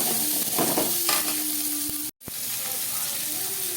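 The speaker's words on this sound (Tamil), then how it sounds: "நல்லா வணங்கிட்டு இருக்குது" Small onions sauté in a pan with a steady close sizzle, and stirring scrapes cut in and out, briefly dropping to silence partway through.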